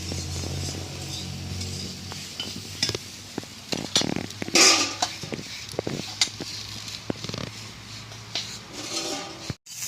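Low sizzling of bitter melon frying in a pan, broken by frequent scrapes and stirring clinks of a utensil against the pan.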